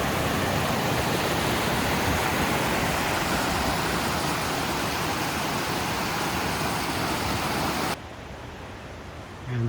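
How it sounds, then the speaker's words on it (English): Rushing water of the Cross River near a bridge, a loud, steady broadband roar filling the whole stretch, dropping abruptly to a quieter level near the end. "I just looked it up. This is the Cross River."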